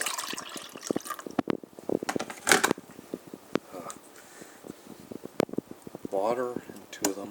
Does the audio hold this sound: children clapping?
no